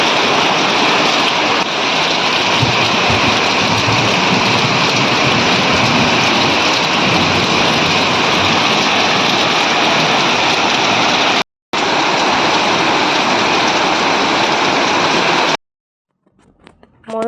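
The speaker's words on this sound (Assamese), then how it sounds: "বহুত ডাঙৰকৈ বৰষুণ জাক আহিছিলে।" Heavy rain shower pouring down in a steady, dense roar that fills the scene for about fifteen seconds, briefly cut once, then ending abruptly into near silence with faint sounds at the close.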